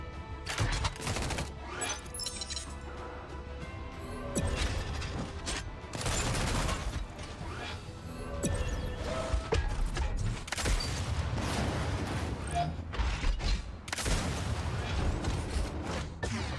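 Mech units firing weapons in the video game Mecharashi: a dense, continuous barrage of gunfire bursts and booming impacts with mechanical clatter, loud and sustained throughout.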